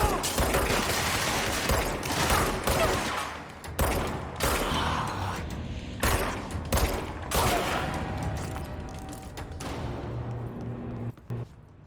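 Repeated bursts of gunfire in the video game Control, loud and close, with sharp volleys and impacts over a busy mechanical background, fading toward the end.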